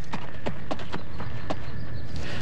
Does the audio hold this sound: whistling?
no